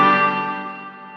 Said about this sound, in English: Here is the full reverb on the